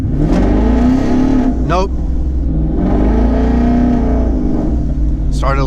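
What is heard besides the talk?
twin turbo 2019 Mustang GT accelerating hard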